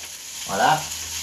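A splash of water meets a hot pan on the stove and bursts into a short hiss of sizzling that swells and fades within about a second.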